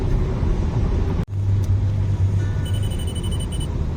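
A car drives along a highway on a long trip from Udon Thani toward Yasothon in Thailand, with a steady cabin rumble and road noise throughout, a brief dropout near the start, and a faint tonal whine toward the end.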